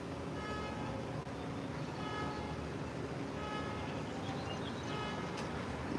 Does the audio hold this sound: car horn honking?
yes